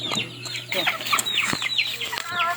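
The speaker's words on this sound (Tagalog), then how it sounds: "Malaki talaga yung manok na yan." Several backyard chickens cluck and chatter in a busy overlapping cluster, close and fairly loud, with sharp calls scattered across the whole stretch over a steady low hum.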